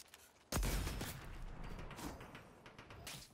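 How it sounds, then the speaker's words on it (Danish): Loud gunfire from a sniper rifle in the video game Fortnite, one sharp blast followed by a dense, ringing burst of shots and reverberating clatter, close and forceful, with no talking over it. "Oh, der er flere skud af det også."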